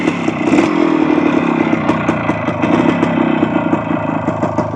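A restored 1975 Kawasaki F11B 250 motorcycle engine runs up close and loud, its raspy two-stroke idle crackling with light blips and clattery pulses throughout, alone without talk.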